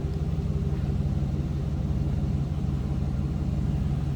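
A 2005 Chevrolet SSR with a 6-liter V8 runs steadily, heard from behind the vehicle as a low, even rumble at idle with no voices over it.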